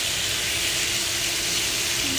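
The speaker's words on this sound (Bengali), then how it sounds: "চিকেনটা মোটামুটি ভাজা হয়ে গিয়েছে" Chicken fries in a pan with a steady, dense sizzling hiss, close and constant throughout the brief moment, with no talk over it.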